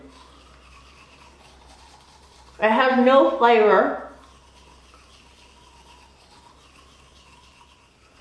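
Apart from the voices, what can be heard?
brushing teeth with a regular manual toothbrush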